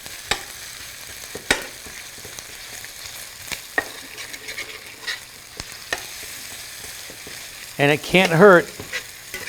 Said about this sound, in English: while our onions and peppers are sauteing